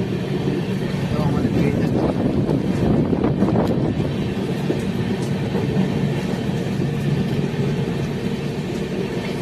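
Steady rumble and rattle inside a moving Ahmedabad–Howrah express train on a rainy day, a continuous low roar filling the carriage throughout, with faint voices mixed into the background.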